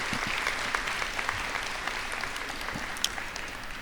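An audience at a scholarship awards ceremony claps steadily, a dense wash of applause from a crowd with a few sharper individual claps standing out, sustained throughout without speech.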